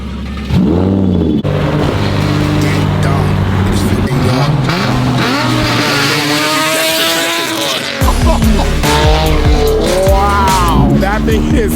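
A loud car drifts and revs hard nearby, its engine rising and falling in aggressive bursts while tires squeal and skid repeatedly, with voices heard over the noise.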